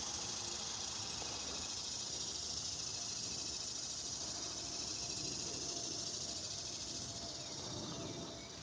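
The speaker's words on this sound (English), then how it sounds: "You can hear the crickets." Steady, dense insect trilling of crickets fills the background on a morning walk in a park in Orlando, a continuous high chirring, moderately faint and unbroken, with no voices.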